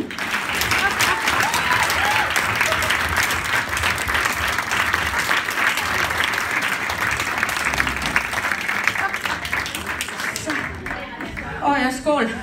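Sustained audience applause at a women's party in Sparkær in 2016, a dense steady clapping that fills the room almost without a break, thinning toward the end as voices and a few cheers come through.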